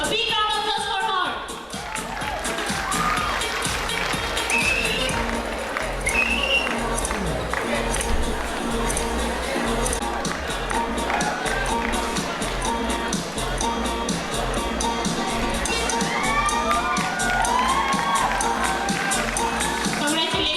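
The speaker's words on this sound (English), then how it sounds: "A big round of applause for her." A crowd claps and cheers loudly and continuously at a college welcome program scholarship award, with scattered whoops and shouts rising over the applause.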